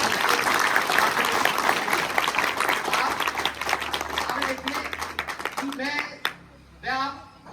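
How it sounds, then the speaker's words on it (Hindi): Students at a career and youth day gathering in Kariri-Todabhim clap loudly in a dense, sustained burst of applause that fades out near the end as a voice begins speaking. "आप अपने लिए खुद के लिए जोरदार तालियां बजाइए"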